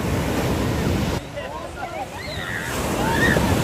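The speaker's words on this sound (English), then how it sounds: "Oh my god, the waves are huge." Large ocean waves crash and roar steadily onto a beach lined with hotels, with loud surf and wind buffeting the microphone and a voice faintly under the noise.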